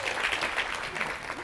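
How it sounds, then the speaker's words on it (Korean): Audience clapping at a Korean lecture event, a dense steady patter of applause lasting a moment, fairly loud and close with a faint crowd murmur. "우리 황선영 씨한테 박수 한번 크게 한번 해주세요"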